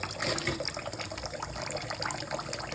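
Surgical instruments being rinsed under running water in a sink, a steady splashing flow with clinks and gurgles, close and moderately quiet.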